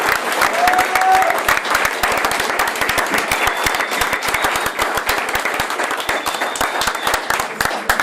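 Audience applause for a band at the Fonoteca Nacional de México: dense, steady clapping from a crowd that holds at an even loudness for the full stretch, with no voices standing out.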